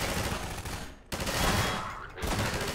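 Sustained automatic gunfire in Half-Life 2 aimed at manhacks, dense and loud with rapid overlapping shots, broken by a brief pause near the middle before the firing resumes.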